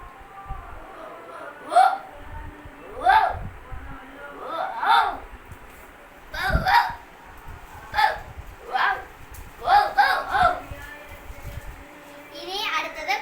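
A performer's voice imitates a big dog, giving a series of short, sharp barking yelps at an uneven pace, each a loud close burst separated by brief pauses.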